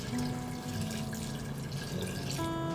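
Water streams steadily into a pot of rice for goose stuffed with plov, a continuous splashing pour heard up close with a faint tonal hum underneath, no talking.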